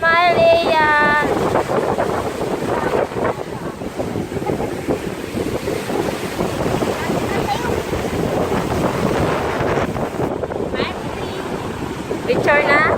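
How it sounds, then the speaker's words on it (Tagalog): Ocean waves breaking on the beach at Baler, a continuous roaring surf with heavy wind buffeting the microphone, and bursts of voices and a high cry at the start and end. "Daming alon."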